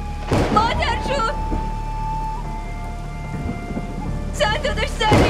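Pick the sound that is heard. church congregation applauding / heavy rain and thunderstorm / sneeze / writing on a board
heavy rain and thunderstorm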